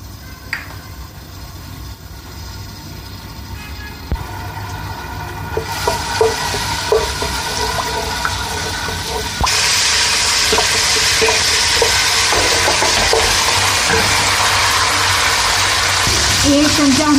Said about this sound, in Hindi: आधा कप हम ऑयल डालेंगे। 4 चमचे हमने अदरक लहसुन डाल दिया इसमें।